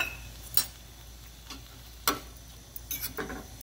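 Gongura chicken frying in oil, a faint background sizzle broken by a few sharp clicks of a utensil scraping the pan, spaced irregularly and heard alone.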